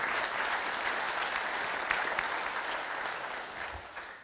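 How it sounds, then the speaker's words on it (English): Applause from a conference audience at a networking event as a speaker takes the floor, a steady even wash of clapping, fairly faint and distant, with no talking. "Give her a warm applause."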